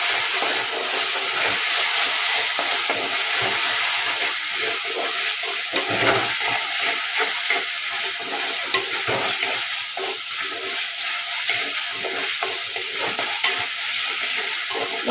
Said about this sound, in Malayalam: അപ്പോൾ ഇഞ്ചി വെളുത്തുള്ളി പേസ്റ്റും ചേർത്തിട്ട് നന്നായിട്ടൊന്ന് വഴറ്റുക.